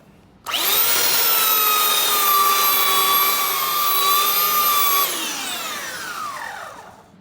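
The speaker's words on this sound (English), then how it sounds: "I'm going to go ahead and use the belt sander to clean it up" Loud, steady whine of a hand-held belt sander grinding across a wood board with the grain, holding for several seconds before winding down and spinning to a stop.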